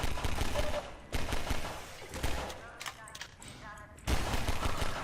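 Strafing gunfire from a combine enemy in the BridgeVille game map: repeated bursts of rapid automatic shots, loud and close, broken by short gaps with a final burst near the end, while someone speaks over parts of it.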